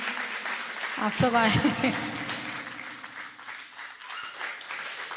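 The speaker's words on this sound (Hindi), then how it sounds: "इन बच्चियों को भी बहुत बहुत तालियां बजाइए" Audience clapping at a folk singing event, a steady wash of applause throughout, with a person speaking over it.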